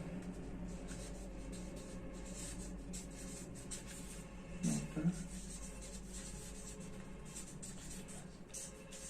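Faint scratching of writing on a classroom board as the parts of a circle are labelled, steady and quiet under room hum, with a voice in the background.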